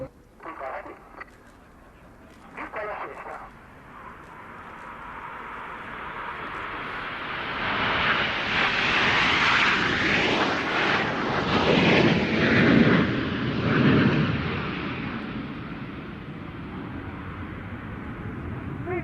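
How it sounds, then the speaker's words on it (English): Italian Aermacchi MB339 jets of the Frecce Tricolori roar past at an airshow, a broad jet noise rising over several seconds, peaking and fading, with a commentator speaking over it. "Aircraft, Italian, MB339."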